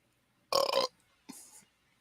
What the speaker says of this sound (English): Is that you burping?